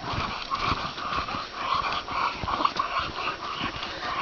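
Two dogs, Leo and Max, whimper and growl continuously outdoors. The low grumbling and whining sit close and fairly loud against steady background noise.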